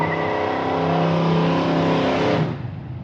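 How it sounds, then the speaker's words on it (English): A drag race car doing a burnout at a drag racing event gives a loud, sustained engine roar with screeching tire spin near by, the pitch holding steady before dropping off sharply near the end. "they're going to do a burnout towards us"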